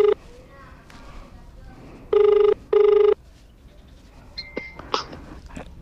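Outgoing phone call ringing back a Lalamove scammer: two steady electronic ringback tones a short pause apart, preceded by a brief tone fragment and followed by soft clicks and a voice.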